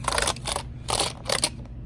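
A rag with an Endust electronics wipe is pressed and rubbed over keyboard keys with a glossy finish, producing three or four short scraping swishes separated by brief pauses, close and fairly quiet.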